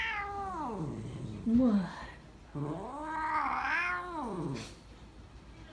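A cat at the vet's office lets out long, drawn-out meows and a rising caterwaul, close and plaintive, with a brief spoken word from a person in between.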